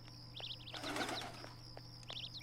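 Birds flap their wings and fly off in a Persona 4 Golden game scene, a soft burst of fluttering wingbeats with light chirps over a steady background hum.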